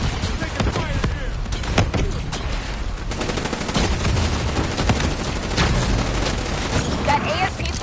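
Sustained video game gunfire, with dense bursts of automatic shots and booming impacts from a PS4 military shooter, rolling continuously at close range while voices shout over the battle.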